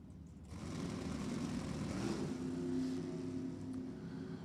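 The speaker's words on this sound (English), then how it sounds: "Couple of big block Chevys singing down to the finish line stripe." Distant big block Chevy drag racing cars roar and drone steadily after a brief quiet start at Lebanon Valley Dragway, a sustained rising mechanical hum of cars accelerating away.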